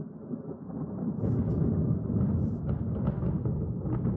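A thunderstorm in modded Minecraft rumbles with a continuous, heavy low roll of thunder and rain, building slightly louder and steady throughout, with no talk.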